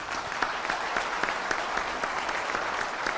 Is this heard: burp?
no